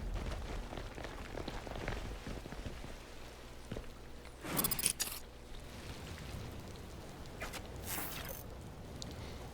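Soft, steady rain patters continuously at low volume, with a couple of brief louder rustles partway through, from the video game Star Wars Zero Company.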